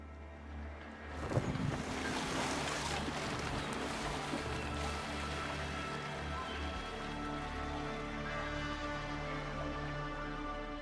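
A boat setting sail in a video game set off Ireland, steady rushing waves and wind swelling after a soft start, with a low continuous rumble underneath.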